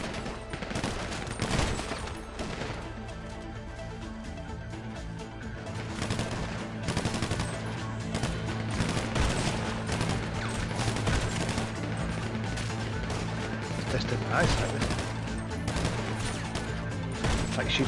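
Gunfire in GTA Online, sustained rattling shots and bursts from several guns, steady and moderately loud throughout with occasional sharper reports over a busy game background.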